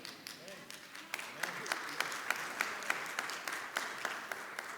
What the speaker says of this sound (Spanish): Vamos a probar de nuevo a ver si los aplausos salen un poco mejor.